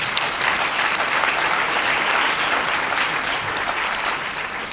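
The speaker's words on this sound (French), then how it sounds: "on peut l'applaudir effectivement" Audience applause at the opening evening of the BD-FIL festival at the Capitole in Lausanne, a dense, even roar of many hands clapping loudly and steadily for several seconds, with no voices over it.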